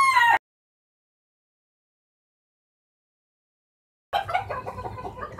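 A hen clucks briefly and loudly up close, cut off abruptly, then resumes with a burst of busy clucking after a long silent gap.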